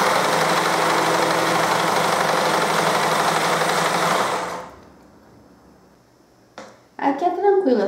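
Sewing machine stitching a fabric face mask runs in one continuous loud whirring burst for several seconds, then stops, followed by brief clicks and someone speaking.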